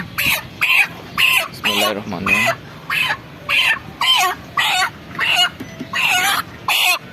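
Broiler chickens about 31 days old on a farm cluck and squawk in short repeated bursts, roughly a dozen loud calls spaced evenly, with a few brief words of speech underneath.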